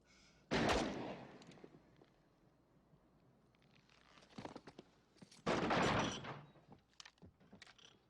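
Gunfire in a western film scene: two loud, close shots, around the half-second mark and near five and a half seconds, each with a long ringing tail, and fainter cracks and rumbles in between.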